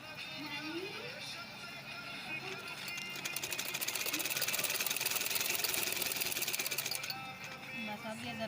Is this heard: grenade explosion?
no